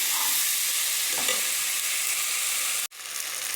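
Rice frying in ghee as it is stirred, a continuous close sizzle with faint spatula scrapes, breaking off abruptly for a moment near the end before resuming.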